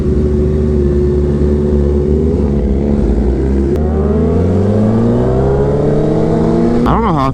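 A Kawasaki Ninja H2 motorcycle fitted with a stage 2 kit is ridden, its engine droning loud and close and rising in pitch as it accelerates, with wind noise throughout.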